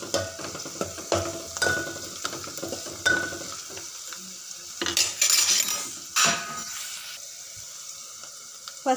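Curry leaves, cumin and turmeric stirred in an oiled pan with green chilies and onions: a run of metal spoon clinks and scrapes against the pan over a light sizzle, with a couple of louder rattling bursts.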